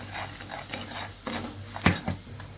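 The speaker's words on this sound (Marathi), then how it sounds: "त्यामध्ये लसूण, 1 चमचा धनिया पावडर आणि आपला घरचा मसाला आहे, छान मिक्स करून घेऊ." Garlic, coriander powder and homemade masala being stirred in hot oil in a kadhai, with soft sizzling under scraping spoon strokes and one louder clack near the end.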